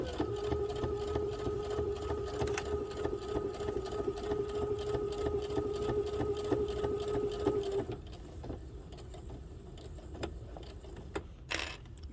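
A sewing machine runs steadily for about eight seconds, top stitching around the edge of a fabric bookmark with a constant whirring hum, then stops, leaving quiet room sound and a few small clicks.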